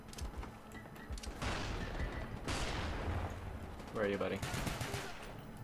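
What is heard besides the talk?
pistol gunshots in Call of Duty Black Ops 1 video game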